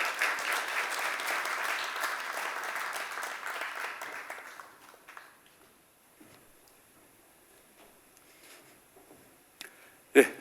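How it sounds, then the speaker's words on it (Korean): Audience applause welcoming a speaker at a population policy talk event, loud sustained clapping that fades out after about five seconds, leaving a quiet hall with faint shuffling and a sudden clatter near the end. "큰 박수로 환영해 주시기 바랍니다."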